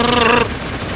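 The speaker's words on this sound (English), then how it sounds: "Is the SMG really this ineffective" Rapid SMG gunfire in the video game Shadow the Hedgehog, a loud dense burst lasting under half a second, then cut off into a quieter game soundscape.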